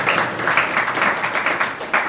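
An audience at a Hindi-language moral teaching talk applauds in a dense, steady wash of many hands clapping, filling the whole moment without speech.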